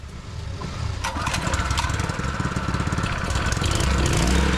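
An HTP power sprayer pump's small engine is pulled into life with a sharp start, then settles into a loud, steady buzzing run close by, with no voices.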